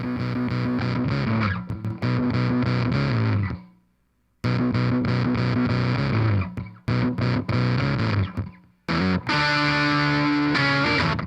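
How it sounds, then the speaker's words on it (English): Multitracked electric guitar from a song, heavily distorted and run through an octaver, with flanger and wah colouring: loud chugging rhythmic bursts broken by a brief silence, then choppy stabs and a sustained ringing phrase. "I can definitely hear some sort of octaver."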